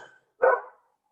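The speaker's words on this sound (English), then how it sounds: "That's my dog." Labradoodle gives a single short bark, fairly close and clear, with near silence around it.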